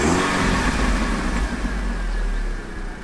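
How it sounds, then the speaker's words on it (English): Volkswagen GTI with a turbo and a low-profile setup revs hard, its engine droning loud and close for the whole stretch with a steady low rumble and no talk. "Why are you getting more popping?"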